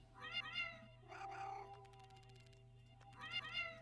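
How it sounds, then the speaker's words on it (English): Cat meowing in the video game Critters For Sale: two clear, close meows a few seconds apart, each with a tuneful rising-falling pitch, over a steady low hum and soft background sounds. "Meow meow."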